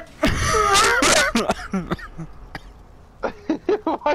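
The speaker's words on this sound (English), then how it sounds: "Why'd you start coughing after that?" A person coughs hard and raspily at close range, several harsh bursts followed by shorter wheezy coughs.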